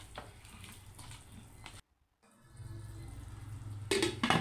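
Spoonfuls of water poured into a pan of mixed vegetables cooking on the stove, giving a steady hiss and sizzle broken by a brief silence, then rising again louder toward the end.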